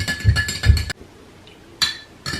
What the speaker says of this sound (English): Make sure you mix it very, very well.